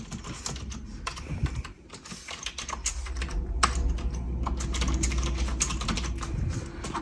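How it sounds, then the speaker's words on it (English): Steady typing on a Logitech MK270 full-size computer keyboard, rapid clicking keystrokes close by with a low hum underneath and no voices. "Okay, I'm gonna start typing."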